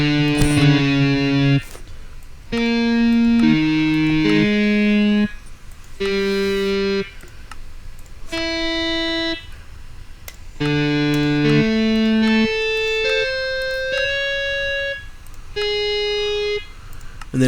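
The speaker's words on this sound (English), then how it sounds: "that's when it becomes an electric guitar" Distorted electric guitar from the MusicCraft mod in Minecraft, a loud sequence of sustained, buzzy harmonic notes and chords played one after another with brief gaps, alone and close.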